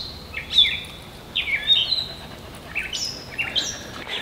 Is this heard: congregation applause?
no